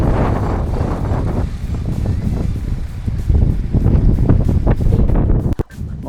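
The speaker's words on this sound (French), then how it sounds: "ça caille sévère ce vent" Strong, cold wind sweeping an open mountain pass in the Cézallier highlands, buffeting the microphone in loud, continuous low roaring gusts with a brief dropout near the end.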